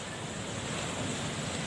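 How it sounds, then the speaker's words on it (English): Waves crash in a steady, roaring wash of surf during a typhoon in the Philippines, loud and continuous with wind buffeting the microphone. "look at the waves crashing in there"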